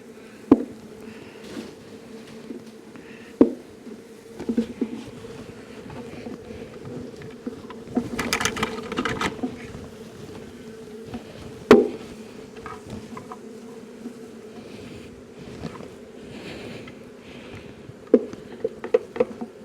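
A honeybee swarm drones with a continuous close buzz during a swarm extraction, its steady hum broken by occasional sharp knocks and taps, with no talking.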